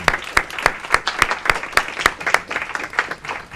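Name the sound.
applause at a council meeting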